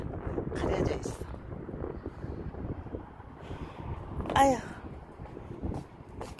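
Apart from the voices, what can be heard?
strong wind blowing outdoors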